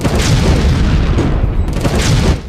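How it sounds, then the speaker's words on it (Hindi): A bomb blast from the Ahmedabad serial bombings, a loud, heavy rumbling boom that sustains through the whole stretch with rolling low-end energy and no voices. "दूसरा धमाका"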